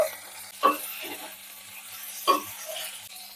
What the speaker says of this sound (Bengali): এইটা এবারে ভালো করে কষিয়ে নেব, এই টমেটো আর আদা রসুনের কাঁচা গন্ধ চলে যাওয়া পর্যন্ত।